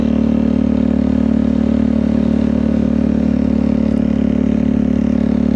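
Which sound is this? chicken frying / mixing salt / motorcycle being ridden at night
motorcycle being ridden at night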